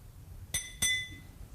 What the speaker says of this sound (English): You see sitting here on the lectern a glass of water.